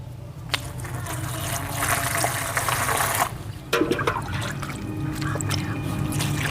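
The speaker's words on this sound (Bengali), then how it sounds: "ফুলগুলো সব ছাড়ানো হয়ে গেছে এবার আমি ভালো করে ধুয়ে নেব" Water splashes and trickles continuously while pumpkin flowers are washed in a village kitchen, with a sudden louder slosh midway and a steady running-water wash throughout.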